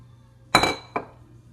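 Apple mixture tipped into a bowl of bread batter, heard as two sharp clinks of a utensil against the bowl, the first louder with a short ringing tail, then quiet.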